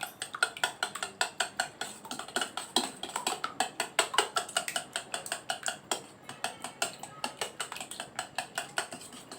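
Eggs being beaten for an omelette, a fork or whisk clicking rapidly against a bowl in a steady, fast rhythm of sharp metallic taps, close and clear with no talking.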